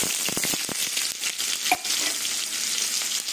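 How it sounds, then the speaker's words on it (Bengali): Chopped onions dropped into hot oil with nigella seeds, a loud close sizzle and crackle with a few stirring scrapes, continuous for a few seconds with no voices. "এবার কুচনো পেঁয়াজ দিয়ে দেবো।"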